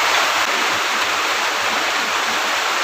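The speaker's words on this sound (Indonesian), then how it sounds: "Patutlah kuat dia punya angin guys," Strong outdoor wind roars steadily as rain approaches, a loud, continuous broadband rush with no breaks, filling the whole short stretch without any voices.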